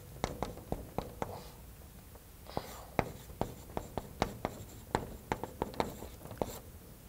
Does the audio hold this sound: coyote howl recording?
no